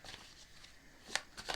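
Tarot cards shuffled by hand during an astrology reading: soft, close riffling and papery flutters, with a couple of sharper snaps near the end, recorded alone without talk.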